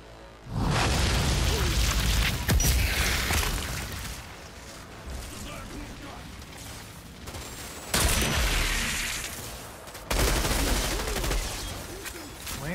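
Bursts of gunfire and booming explosions from the looter-shooter video game Outriders, loud and dense, with heavy impacts recurring in waves across the whole stretch.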